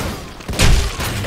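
A grenade goes off in the Power Plant map of an online shooter, one loud close thudding blast rising out of steady game noise and fading in under a second.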